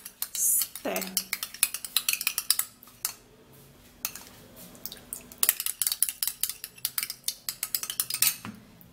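A spoon clinks and scrapes against a bowl while stirring a potato and egg-yolk mixture for an under-eye remedy, irregular close tapping and clattering with brief gaps and a pause midway.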